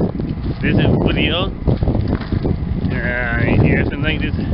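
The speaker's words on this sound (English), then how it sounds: "sorry about the wind" Wind buffets an outdoor microphone throughout with steady low rumbling roar, while a person talks over it.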